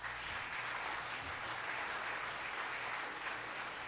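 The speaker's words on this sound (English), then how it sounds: "Give yourselves a round of applause." A crowd at an indoor veterans' gathering in Buffalo, NY, applauding in a dense, steady wash of clapping that holds evenly throughout, moderately distant.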